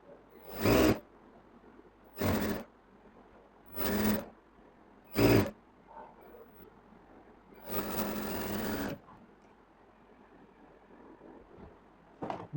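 A sewing machine stitches kameez sleeves in short bursts, four quick whirring runs followed by one longer, steadier run, close and clear with quiet pauses between.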